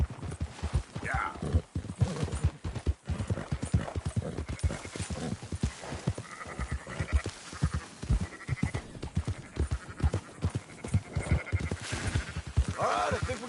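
A flock of sheep bleating over steady horse hooves clopping while the animals are rounded up in the video game Red Dead Redemption 2, the bleats rising now and then above the continuous hoofbeats.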